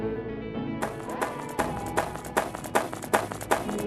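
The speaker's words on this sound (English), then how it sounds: "It's the infected's footsteps creeping closer." Footsteps of an infected creeping closer in a party video game's escape mode, a series of sharp, evenly spaced taps that grow more distinct over background game music.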